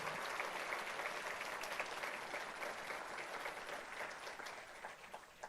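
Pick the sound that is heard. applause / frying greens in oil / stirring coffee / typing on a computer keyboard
applause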